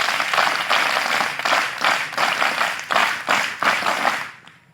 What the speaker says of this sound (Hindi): आप अपने लिए एक ताली बजाएंगे। हाथ ऊपर, जोर से लहराएं, ताली बजा।